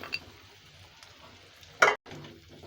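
Olives dropped into hot oil in a pot for a sweet-sour olive pickle give one sharp burst of sizzle and splatter, followed by quieter frying and a faint stirring scrape.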